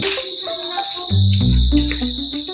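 Crickets chirp in a provincial evening setting, a steady, high, unbroken trill running throughout, with other tonal sounds rising and falling over it.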